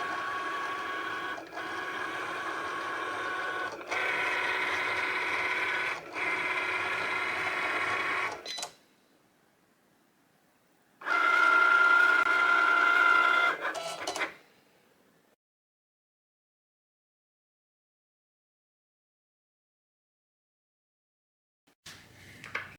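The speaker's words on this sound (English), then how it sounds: "you're going to see the Cricut is going to go ahead and score it first, and then it will cut it" A Cricut cutting machine scores and then cuts cardstock with whirring motor runs and clicking carriage moves in two long bursts separated by silence, close and steady, with a brief last burst at the end.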